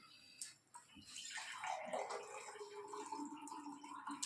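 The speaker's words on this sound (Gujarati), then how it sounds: "1 ગ્લાસ પાણી નાખો." Water poured into a pot while cooking undhiyu, a soft, brief splashing stream that settles into a gentle continuous pour, quiet and close.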